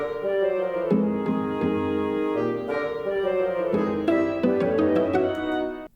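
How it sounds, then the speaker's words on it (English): A clarinet and bassoon duo plays warm, intertwined melodic lines from Final Fantasy IX game music, sustained notes moving together, clear and close, with no voices. "If you pay attention, it's carried by a clarinet and a bassoon duo."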